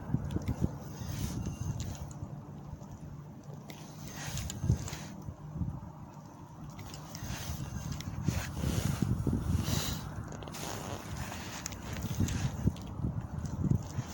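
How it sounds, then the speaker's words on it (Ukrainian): Cold gusty wind rumbles against the microphone while spinning fishing, in uneven low bursts, fairly faint and steady throughout with no talking. "Сьогодні нереально холодний вітер."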